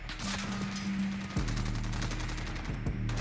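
Holger-26 light machine gun fire in Modern Warfare, a rapid continuous burst of close shots over a low humming game background.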